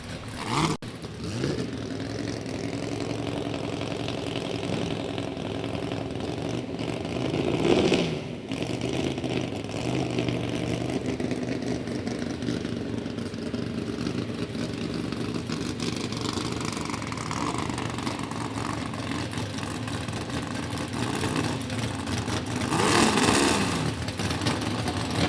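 A 300 cubic inch inline six-cylinder Ford engine in a 1923 Ford T-bucket drag car at a drag strip, idling steadily at a moderate distance with a couple of brief revs, no voices.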